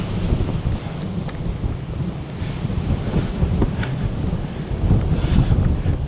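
Strong gusty wind buffets a hilltop at Mow Cop, a loud, continuous roar with rough surges that build toward the end.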